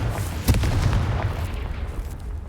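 The Confringo spell explodes in Hogwarts Legacy with a deep, punchy boom followed by rumbling, crackling debris that fades over a couple of seconds.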